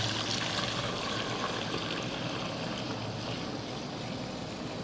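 Homemade imitation milk being poured and strained, giving a steady, continuous liquid rush and trickle that runs evenly from start to finish with no voices over it.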